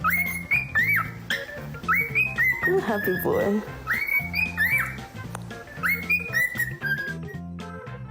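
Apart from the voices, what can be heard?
parrot chirping and whistling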